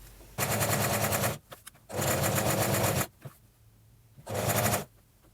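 A sewing machine stitches fabric in three loud, fast bursts of rapid mechanical clatter, each about a second long, with short quiet pauses between them.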